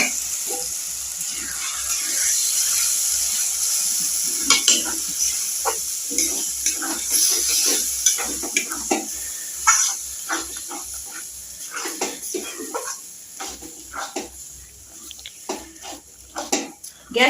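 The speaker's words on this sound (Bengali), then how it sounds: "এবার আমি ব্যাটারটা জিরের মধ্যে দিয়ে দেব।" Semolina batter goes into cumin frying in hot mustard oil in a wok, giving a loud hiss that settles into irregular sputtering, bubbling and scraping as the mixture is worked.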